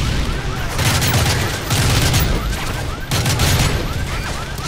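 Repeated heavy blasts and dense gunfire rumble through a battle in Call of Duty Modern Warfare 3 as a bazooka is fired at a tank, with loud booming bursts recurring about every second and a half amid constant crackle.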